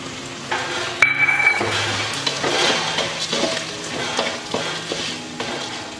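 Moong dal frying in a hot pan for a linga donda leafy curry, a continuous sizzle with the scrape and clink of a utensil stirring it, no voices.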